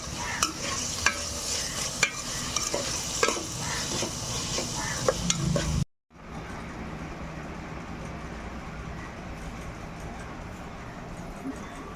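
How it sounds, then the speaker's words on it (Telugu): Onions and ginger garlic paste fry in a pan with a loud, continuous close sizzle and sharp spoon taps against the metal. After a sudden brief cut, a softer, steadier sizzle carries on with no stirring. "అల్లం వెల్లుల్లి పేస్ట్ వేసేసుకొని ఇది కూడా పచ్చివాసన పోయేలాగా వేపేసుకోవడం"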